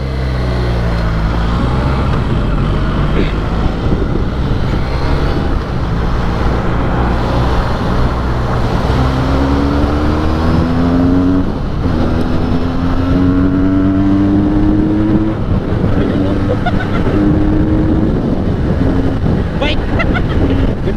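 Benelli 302S motorcycle running on its stock exhaust during a test ride, a steady engine drone with rising revs under heavy wind rush, close and loud throughout, with someone talking excitedly over it.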